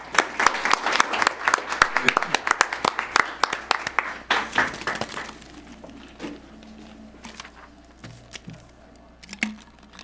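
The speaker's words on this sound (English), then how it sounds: "Let's give them another big round of applause." A round of applause at a school board meeting, with sharp, close claps from a small group that taper off after about four seconds into quieter room noise and a few scattered claps.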